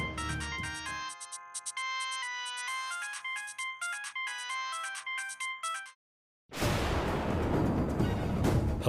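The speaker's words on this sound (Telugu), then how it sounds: "ఫోన్ రింగ్ అవుతోంది." A phone's melodic ringtone plays loud and clear for about six seconds in a repeating tune, then cuts off, followed by a short silence and a burst of noisy background sound.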